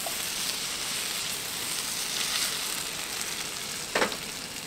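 Crappie fillets fry in a pan inside a truck cap camper, giving a steady, close sizzle with a brief louder crackle near the end.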